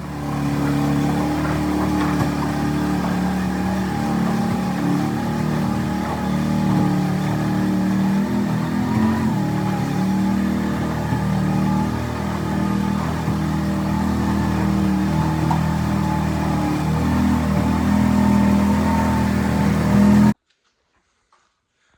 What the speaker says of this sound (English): I'm scraping these stalls now